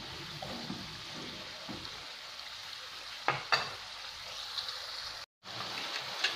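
Chicken liver frying in oil in a pan while being stirred, a steady close sizzle with scraping stir strokes and a few sharp utensil knocks, no talk.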